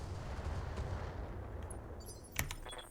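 Weapons fire in the Battletech Roguetech mod, a continuous low rumble of shooting with a sharper impact crack late on, fairly faint, no talking.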